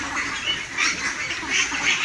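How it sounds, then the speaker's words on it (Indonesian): Ducks quack in a noisy cluster while feeding from a bucket of dry bran, close and continuous with bursts of louder calls. "Lucu ya kalau lihat bebek makan."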